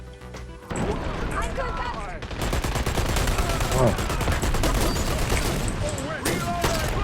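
Rapid bursts of video game gunfire crackle almost continuously, with a brief voice exclaiming in German over the shooting.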